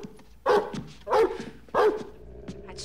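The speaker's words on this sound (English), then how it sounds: "That stupid dog barks at me one more time." A dog barks three times in a steady rhythm, each bark loud and close, with quieter room sound between them and no talking.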